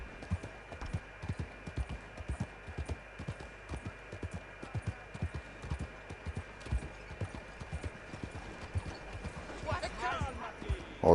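A horse's hooves clip-clop at an even walking pace, steady repeated thuds throughout at moderate distance, with faint background noise rising near the end.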